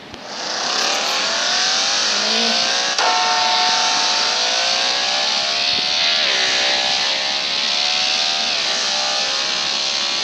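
A motorbike engine in the Traffic Rider video game revs and accelerates continuously, a loud, whining tone climbing in pitch through repeated gear shifts, with no talking.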